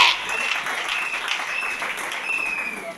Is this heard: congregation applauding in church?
yes